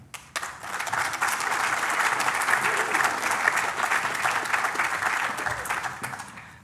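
An audience at a 2014 community awards ceremony in the Rotorua district breaks into sustained, dense applause for supreme award winners, swelling quickly, holding steady for several seconds, then tapering off.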